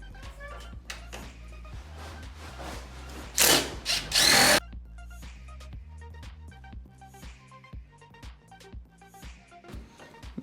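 A power drill backs the top screws out of an LG WM2650HRA front-load washer in short whirring bursts, with one louder grinding run in the middle. Clicks and handling noises fall between the bursts. There is no speech.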